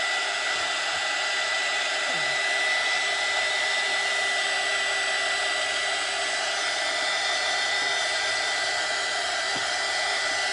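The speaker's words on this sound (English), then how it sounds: "Let me grab my heat gun again." A heat gun blows steadily on wet paint, a constant whirring hiss with a faint motor whine that holds unchanged for about ten seconds, with a couple of tiny clicks.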